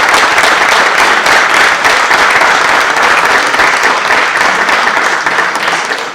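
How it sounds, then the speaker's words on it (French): A theatre audience at a round-table discussion on the Boulogne dialect applauds its speakers, a dense, loud wash of clapping that continues unbroken for several seconds before starting to taper at the end. "On peut le faire d'ailleurs par des applaudissements."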